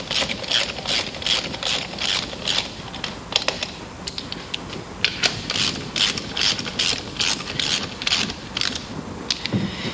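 A torque bar ratchets a stainless steel splice closure's end plates together, sharp rapid clicking in repeated bursts, close and loud with short pauses between strokes.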